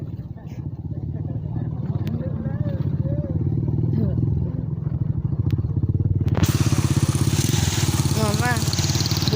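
Motorcycle engine while riding, a steady close rumbling drone that runs throughout with wind noise rising near the end, and a voice briefly heard over it.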